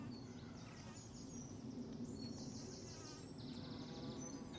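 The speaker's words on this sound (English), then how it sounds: "The bees are absolutely loving these poppies." Bees buzz steadily among flowering poppies in a garden, a continuous soft hum of several insects close by, with faint bird chirps in the background and no talking.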